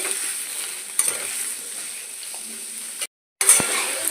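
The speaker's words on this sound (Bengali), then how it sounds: "কাঁচা লঙ্কা আলুগুলো একটু তেলের মধ্যে লাল লাল করে ভেজে নেব" Potatoes and green chillies fry in hot oil with a steady moderate sizzle, a couple of sharp clinks, and a brief drop to silence before the sizzle comes back.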